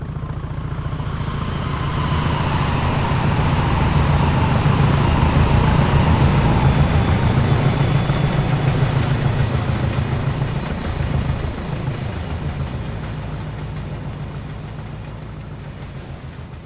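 Class 20 diesel locomotives 20060 and 20023 haul a loaded steel train out of Peterborough toward Doncaster, a loud, steady low engine drone holding throughout and swelling slightly as the train passes close.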